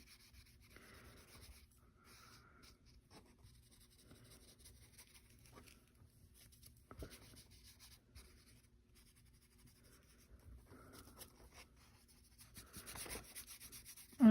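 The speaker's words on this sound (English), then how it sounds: "Just a quick go over with a paintbrush will take care of that." A paintbrush sweeps excess embossing powder off a paper bag bellyband in soft, faint, intermittent brushing strokes, close and quiet with no talk.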